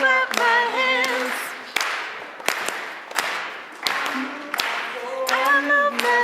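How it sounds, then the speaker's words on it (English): Hands clap in a steady rhythm during a sung camp song at a Friday evening Shabbat service, sharp claps spaced about every second and mixed with the singing voices. "I clap my hands"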